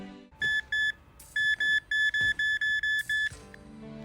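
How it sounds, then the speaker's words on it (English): Repeated electronic beeps from the detection augment in Dragon's Dogma 2, a steady run of about ten short, bright tones in quick rhythm over a faint game background. "This augment makes an audible sound when you are near a Wakestone or Seeker's token."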